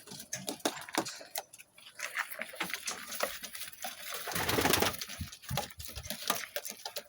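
Soft sport pigeon coos and wing flutters with scattered clicking and tapping, close and fairly quiet, with no talking.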